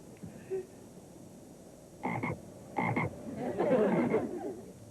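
Three loud, raspy frog croaks, each a short rattling burst about a second apart, the last one longer and rougher, over a quiet background.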